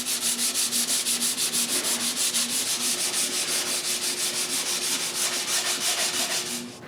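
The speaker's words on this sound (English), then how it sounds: "I sand the raised profile." A raised profile on solid pine wood being hand sanded for a pantry, with fast, even back-and-forth rasping strokes that repeat steadily and loudly, close up with no other sounds.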